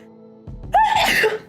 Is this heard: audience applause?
no